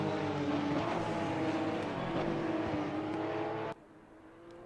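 A Porsche Cup race car at Kyalami roars steadily at high volume, then brakes very hard deep into a corner, and the engine note drops away abruptly near the end.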